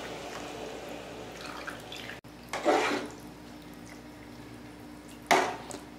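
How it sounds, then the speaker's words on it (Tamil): Dissolved sugar syrup poured into simmering adai payasam (ada pradhaman), heard as two short, close splashy pours separated by quieter stretches with light dripping. "இப்போ நம்ம இந்த ஸ்டேஜில் நம்ம கரைச்சி வச்சுருக்க சர்க்கரையும் ஆட் பண்ணிப்போம்"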